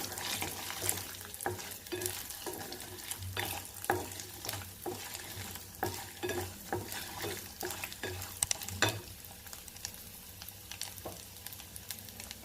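Green chillies fry and are stirred in a pan for a brinjal coconut chutney, with soft sizzling under repeated scraping and clinking strokes of a spoon at a quiet, close level.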